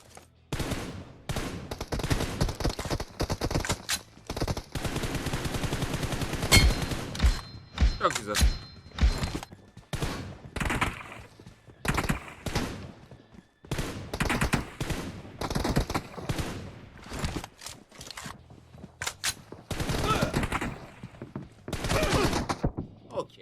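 Gunfire in the battle-royale shooter PUBG Mobile during a one-on-one match, with repeated sharp bursts and single shots in irregular clusters, loud and close, alongside a voice talking over the action.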